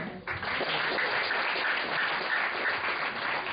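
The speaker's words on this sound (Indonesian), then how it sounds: "kasih tepuk tangan untuk Pak Bibi" An audience at an event gives sustained applause, a dense, even wash of clapping that holds steady after a brief opening blip, with muffled top end.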